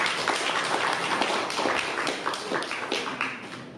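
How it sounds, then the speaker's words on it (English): A crowd applauds a speaker at a media anniversary tribute honoring a newspaper publisher, the clapping dense, steady and fairly loud throughout, with no talk over it. "we must give him a round of applause for that"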